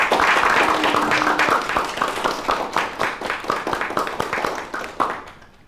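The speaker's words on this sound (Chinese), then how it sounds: "大家鼓掌。" An indoor gathering at a police station breaks into loud applause, a dense burst of many hands clapping together that thins out and fades over several seconds.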